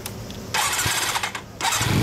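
A 2004 Kawasaki Zephyr 400 motorcycle with a Moriwaki aftermarket exhaust starts with a sharp bark, drops briefly, then catches again and rumbles loudly nearby with a gruff, throaty exhaust tone.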